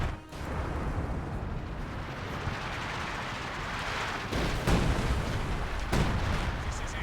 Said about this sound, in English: Artillery barrages at your convenience.